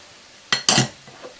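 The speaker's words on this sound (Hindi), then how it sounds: "सिर्फ इसकी मिक्सिंग कर रहे हैं चूल्हे के ऊपर रखकर बिल्कुल लो पर" A utensil scrapes and clinks twice against a pan while potato samosa filling with green chillies, coriander and onions is mixed over a low flame, followed by faint softer taps.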